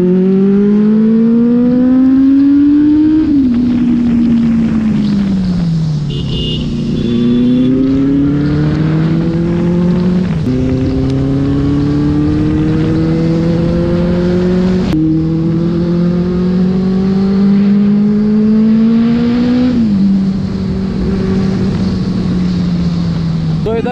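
Several motorcycles, a Kawasaki Ninja 400, KTM Duke 390 and Benelli 600, rev loud and close in a steady engine drone whose pitch keeps climbing and dropping through repeated throttle blips and gear changes.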